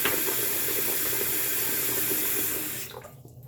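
Hot water gushes from a tap into a bathroom sink in a steady, loud stream that cuts off abruptly near the end, leaving a few faint drips and a quieter room.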